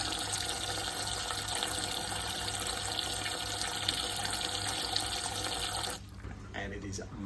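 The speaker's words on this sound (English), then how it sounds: "you also have water splashing sound every time." Water from a Neptune ATK V2 auto top-off runs and splashes steadily into a reservoir, close and continuous, over a low mechanical hum, then cuts off abruptly near the end.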